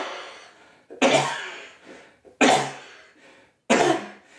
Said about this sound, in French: Eh bien, comment on tousse?